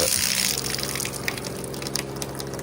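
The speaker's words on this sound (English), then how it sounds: "that is the cooling mechanism trying to cool the water down to put into a cup" A continuous low mechanical hum with a faint watery gurgle from the cooling unit of a Liliumfaucet sparkling water dispenser, fairly quiet and steady, with a few soft clicks near the end.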